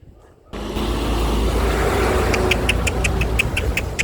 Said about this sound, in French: C'est rien, c'est un camion.